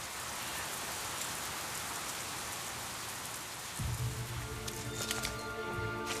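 Rain falls steadily on leaves as a soft, even patter, and louder, lower sounds join near the end.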